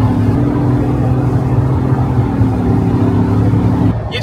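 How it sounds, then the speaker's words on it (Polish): Ford Bronco Wildtrak 2.7 V6 engine pulling hard at highway speed, a loud, steady droning growl with a slowly rising tone from inside the cabin, cutting off sharply at the end. "A przy okazji ma fenomenalny dźwięk V6."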